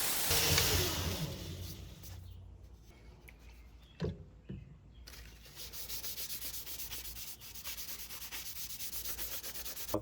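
Sandpaper at 80 grit rubbing across the blade of a handmade kukri knife, a close, steady abrasive hiss that pauses briefly partway through and then resumes with a rhythmic scraping texture.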